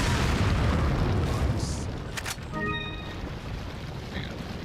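A grenade detonates in Resident Evil 4, a loud broadband boom that rolls into a lingering rumble with crackling debris and a few bright metallic pings trailing off.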